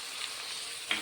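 Brinjal frying with salt in a pan, a soft steady sizzle with a brief brighter crackle near the end, fairly quiet with no talking.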